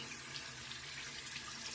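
Tap water runs steadily into a sink while a vacuum part is washed out, a continuous hissing splash heard up close with no talking.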